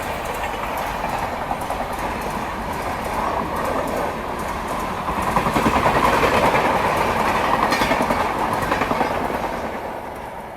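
The Mangala Lakshadweep Express passes at a crossing in India, a loud, close rumble with clickety-clack wheel rhythm that swells partway through and then eases slightly, with no voices.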